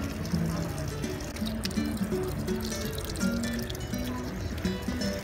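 Drinking water pours steadily from a public fountain in Rome, a continuous splashing trickle close by, with people talking faintly under the flow.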